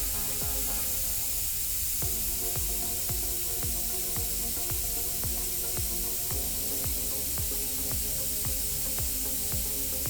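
Compressed air hisses steadily out of a scale-modeling airbrush, a continuous close spray punctuated by a regular ticking pulse roughly twice a second, with no talking.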